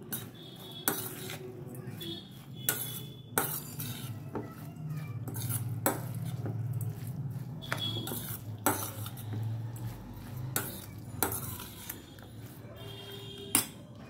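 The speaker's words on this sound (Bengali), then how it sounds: "এটাকে এবার আবার ভালো মতো আমি এটাকে মেখে নেব" A utensil works a fish mixture for chuno macher paturi around a bowl, giving steady scraping and stirring with frequent metallic clinks against the dish, close and fairly quiet over a low background hum.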